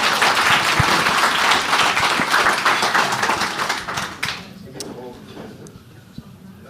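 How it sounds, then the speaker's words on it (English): Live show audience claps for a man about to be married, a loud, dense round of applause that fades out after about four seconds into quieter room noise with a few scattered claps. "Give him a round of applause for that"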